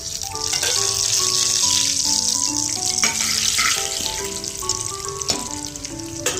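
Urad dal, mustard seeds and cumin crackle and fry in hot oil for a tiffin-box idli tempering, a loud, dense, steady sizzle throughout, with sharp pops and spits over it.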